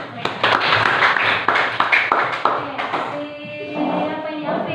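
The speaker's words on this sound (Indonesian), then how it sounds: "Tepuk tangan untuk mereka." A group claps in a short burst of uneven hand claps, then the clapping fades as voices and children's chatter take over.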